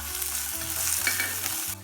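Chopped onion goes into a pan of sizzling eggplant masala, producing a steady, close frying hiss that holds evenly throughout over a low tonal hum.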